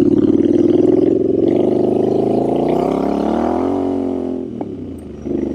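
A Royal Enfield Scrambler 650 motorcycle roars close by, its exhaust note rising as it accelerates, then easing off briefly before picking up again.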